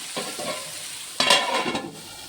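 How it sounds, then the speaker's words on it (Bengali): Mutton curry with potatoes fries in a pan as it is stirred, a close scraping stir over a soft sizzle, with a louder burst of spattering midway, no speech. "ঢাকনা খুলেছি আবার একটু নেড়ে দেবো"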